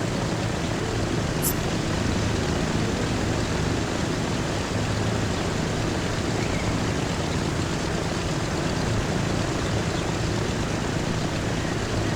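A steady, unbroken aircraft engine drone fills a flight in the Transport Fever 2 video game, a constant broadband roar with no talk.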